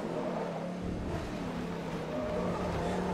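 Race car engines drone steadily through a Forza Motorsport 3 race, with a blue Nissan GT-R close behind, a continuous mid-level roar with faint tire noise and no voices.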